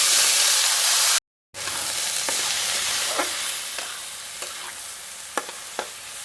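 Rice fries in a pan with turmeric and a bay leaf. A loud steady sizzle is cut by a brief gap, then settles into softer frying with occasional stirring scrapes.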